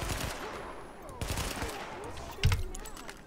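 Gunfire in The Division video game on PC: a few scattered shots and bursts over game ambience, with a heavier cluster of shots near the end, mid-distance and moderately loud.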